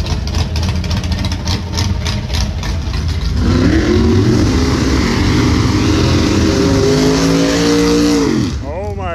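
A Corvette drag car at a dragway revs hard, its loud engine rising and holding high pitch for several seconds before dropping off, with crowd and track noise around it.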